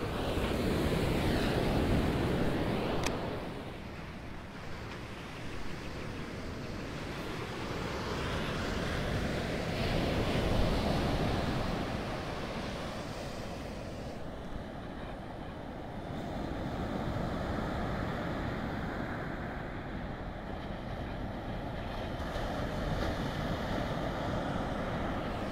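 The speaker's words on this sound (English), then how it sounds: "Oh yeah, some good waves today." Ocean surf breaking on a shore, a continuous loud roar of crashing waves that swells and eases over time, with wind buffeting the microphone and no talking.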